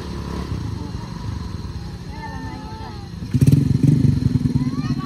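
Motorcycle engine running on a high, winding mountain road between Pessel and Solok in West Sumatra, a steady low drone that swells louder and rougher near the end, with faint talk underneath.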